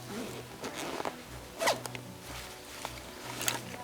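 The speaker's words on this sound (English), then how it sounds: "The carrier, zip it up, you're good to go." A zipper rasps shut on a camera carrier bag outdoors on a hiking trail in the Oregon wilderness, several short scratchy pulls close by, with the sharpest burst near the middle.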